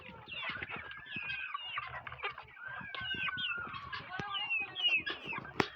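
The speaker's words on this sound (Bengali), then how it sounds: "দেখতেই পাচ্ছেন সুন্দর আছে মুরগিগুলো" Chickens clucking together in a poultry shed, a dense, continuous chorus of overlapping clucks and squawks at close range.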